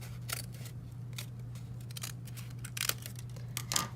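Scissors cut through folded paper in several short, close snips spaced irregularly, over a low steady hum with no talking.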